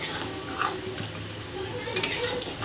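Meat with Kashmiri chilli powder being stirred in a pot for mangsho kosha, a low simmering sizzle with a few metallic spoon clinks against the pot near the end.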